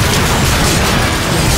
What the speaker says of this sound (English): Incoming artillery! Get out of there, Optimus!